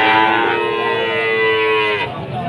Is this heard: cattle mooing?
yes